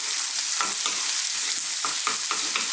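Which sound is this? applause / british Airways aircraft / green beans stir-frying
green beans stir-frying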